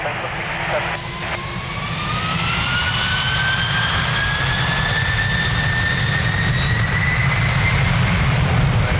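At Lisbon Airport a heavy jet airliner powers up for takeoff, its engines whining upward in pitch over a deep, sustained roar that stays loud and close, with radio voices faintly underneath.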